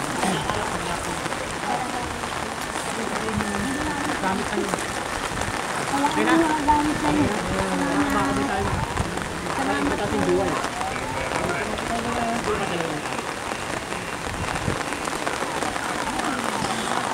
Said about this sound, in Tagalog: Yan na naman ang ulan.